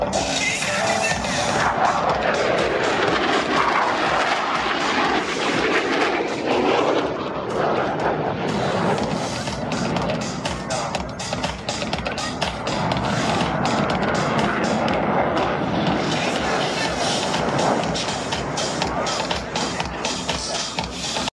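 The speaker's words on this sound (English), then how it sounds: "Approaching inverted from the left and right, they will roll their aircraft 360 degrees crossing over center point." Blue Angels F/A-18 jets flying the opposing inverted-to-inverted roll at an airshow in New York, a loud continuous roaring jet thunder sustained throughout with broadband rumble and no pauses.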